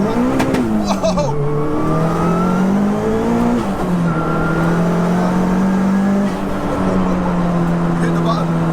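Tuned 522 bhp track-prepared Audi A3 1.8T pulling hard in second gear, a loud, close engine note rising steadily and holding high revs with a slight dip, heard from inside the car.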